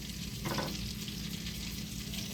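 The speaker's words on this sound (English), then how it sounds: "Let those onions cook." Onions for burgers sizzle and crackle steadily in a hot pan, a close, continuous frying hiss with a brief stirring scrape near the start and no talking.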